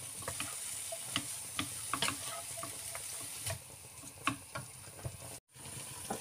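Vegetable lumpia filling stirred in a pan with ground pepper, a soft sizzle under scattered clicks and scrapes of the utensil, brief and irregular, no talking.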